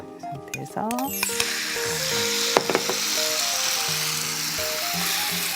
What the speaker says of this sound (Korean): 이거를 한번 볶아줄게요.